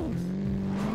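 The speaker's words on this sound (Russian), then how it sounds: "Оборотистый двигатель, на самом деле." A high-revving Aston Martin engine in the Traffic Racer video game, holding a steady buzzing drone for about a second after a brief drop in pitch, loud and alone.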